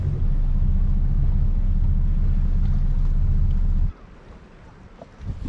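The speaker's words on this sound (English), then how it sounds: "the waves just began to come in and started hitting the boat" Anchored boat buffeted by wind at sea, a heavy low rumble of wind and waves slapping the hull for several seconds, then dropping abruptly to softer wind and water lapping.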